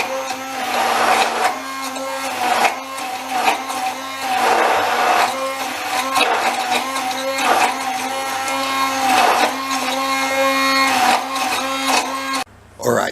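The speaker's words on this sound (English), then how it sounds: "So just very gently with my stick blender, I'm going to start pureeing this" A stick blender pureeing fennel drones steadily in a loud motorized whir, its pitch rising and falling slightly as it works, with a short break near the end.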